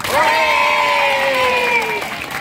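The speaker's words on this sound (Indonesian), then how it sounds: "Oke, tepuk masyarakat." Scout group performs the 'tepuk masyarakat' chant, several voices calling out a drawn-out tone together in one brief, steady burst, near and fairly loud.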